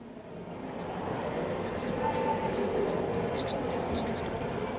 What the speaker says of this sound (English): I will draw the experimental setup here for determining the wavelength here